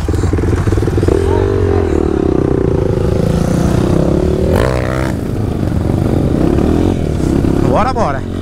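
Honda CRF 250 dirt bike accelerating on an off-road trail, a loud, steady engine drone with rising revs, close by, with voices talking over it.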